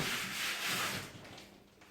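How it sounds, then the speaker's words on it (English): Soft, steady rubbing of sandpaper on the wooden frame of a platform bed, a few continuous strokes that fade slightly toward the end. "Maybe a bit of sanding there"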